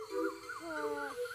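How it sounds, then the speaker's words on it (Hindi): An Asian koel calls in an evening mango orchard with greenery all around and children bathing nearby: a few rising, whistled notes repeat in a steady series, clear and moderately near. "कोयल भी बोल रही है, आवाज आ रही है।"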